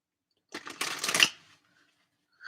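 Oracle cards shuffled once in a quick, close riffle lasting about a second, surrounded by near silence.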